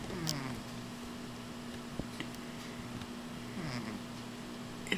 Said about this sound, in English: We got a snoring kitty here.